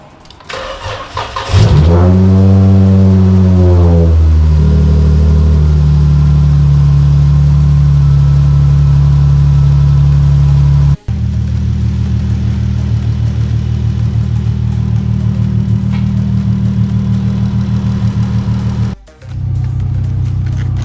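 A Dodge Charger's 3.6L engine cranks and catches, then revs and settles into a steady loud run close by, with a sharp break partway and a brief dip near the end.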